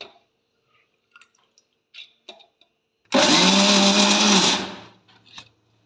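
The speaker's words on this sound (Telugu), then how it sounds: "వాష్ చేసుకొని దీన్ని మిక్సీలో వేసుకోవాలి." A mixer grinder whirs loudly for about a second and a half, grinding washed ingredients for steamed kudumulu batter, preceded and followed by small kitchen clinks and taps.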